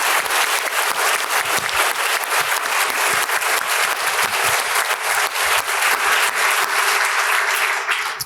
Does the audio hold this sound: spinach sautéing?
no